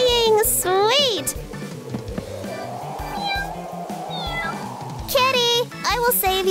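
A kitten meows repeatedly in high, rising and falling cries, loud and close, clustered at the start and again near the end, with background sounds in between.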